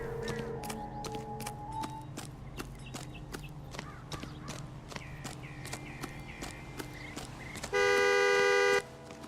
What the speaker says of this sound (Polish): Co kurwa trąbisz tam?